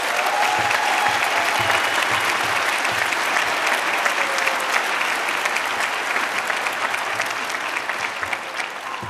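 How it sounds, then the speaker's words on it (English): Commencement crowd under a tent gives a sustained round of applause, dense and steady for several seconds with no talk over it, tapering slightly at the end. "If we could just give one more round of applause."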